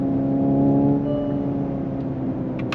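A Hyundai Ioniq 5 N electric car producing a simulated combustion-engine sound, a steady droning hum with a few faint high chirps near the end.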